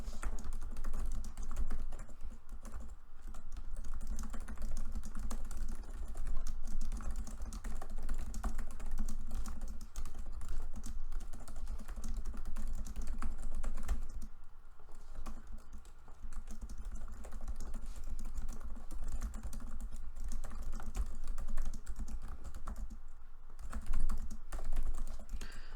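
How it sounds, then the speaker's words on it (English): Steady typing on a computer keyboard, continuous rapid clicking of keys with brief pauses, close and fairly loud, with no talk. "let me just type this up"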